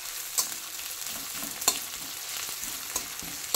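Maggi noodles fry in a pan with a soft, steady sizzle, marked by a few sharp scrapes and taps of a spoon stirring, close up and without talk.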